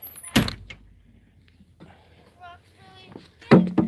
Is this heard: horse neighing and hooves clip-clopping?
no